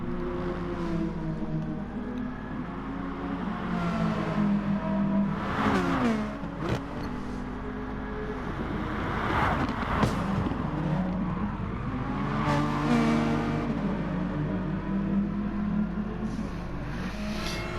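Touring race cars lapping Bathurst in a racing video game, with a loud, steady engine drone that rises and falls as the cars shift gears and rev through corners, and no voices.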